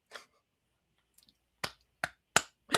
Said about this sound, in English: Even I got the seal clap.